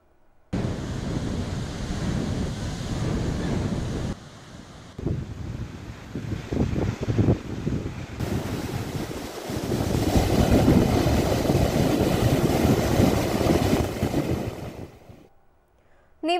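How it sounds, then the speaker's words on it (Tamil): Rough sea waves crash during Cyclone Nivar at Pattinapakkam beach in Chennai, a loud continuous roar of surf and wind gusts hitting the microphone, swelling and easing over several seconds. "கடல் அலை 3 அடி உயர்ந்து பயங்கர சீற்றத்துடன் காணப்படுகிறது"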